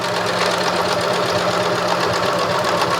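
A sewing machine runs a quarter-inch seam on a reversible fabric shoulder bag, its motor and needle making a steady, rapid mechanical whir that stays close, loud and unbroken for the whole stretch, with no voices.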